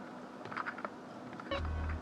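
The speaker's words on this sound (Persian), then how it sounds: "گربه." A cat meows a few times in the Iranian parody version of GTA San Andreas, short, soft calls over a faint background hum, followed by a louder low rumble.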